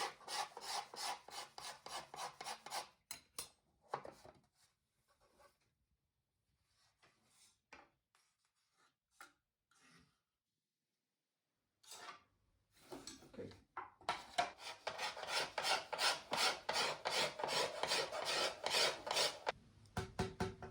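Carving tool scraping and rasping rhythmically across a wooden violin top plate as it is worked to a specific thickness pattern, close and fairly quiet, with a pause of sparse scrapes in the middle before steady strokes resume.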